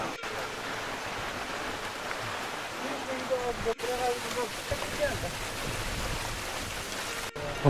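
A mountain stream rushes beside a valley trail climbing Geumosan in Korea, giving a steady, even hiss of flowing water throughout with soft, occasional voices and footsteps on top.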